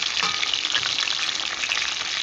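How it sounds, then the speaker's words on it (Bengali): Rohu fish head frying in hot oil in a pan, giving a close, steady, dense sizzle that runs unbroken and alone throughout. "হয়ে গিয়েছে মাছের মাথাটা ভাজা"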